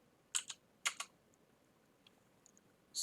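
A few quick bursts of keystrokes on a computer keyboard, typing a word into a browser search bar on a Windows 10 PC. They come in two short clusters, then sparse faint clicks in a quiet room.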